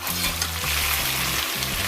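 Goat meat for kondré stew frying and being stirred in a pot, a steady close sizzle with rhythmic scraping strokes of the spoon and no voices.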